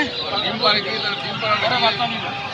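Chickens at a poultry market, a dense chorus of clucks and squawks layered closely over one another, steady and fairly loud, with people talking nearby.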